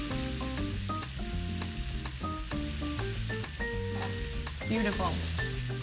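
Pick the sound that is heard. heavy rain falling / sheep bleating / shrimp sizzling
shrimp sizzling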